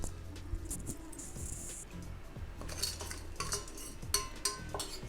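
A spoon stirring vegetable curry with capsicum in a pan, repeated scraping and metallic clinks against the pan, close and fairly quiet, in an irregular rhythm.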